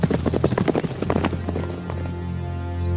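A ridden horse's hooves clip-clop in a quick, steady rhythm close by, fading after about two seconds into a sustained low musical hum.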